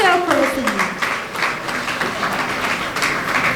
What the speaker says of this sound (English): Let's give a huge round of applause to our chairperson.